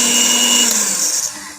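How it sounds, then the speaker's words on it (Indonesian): An electric mixer whips ice cream batter at high speed, giving a loud, steady, close whine with a high-pitched tone that eases off slightly toward the end. "ketika kita mengaduk atau memixer adonan ini, kita menggunakan speed yang tinggi ya, agar busanya cepat naik"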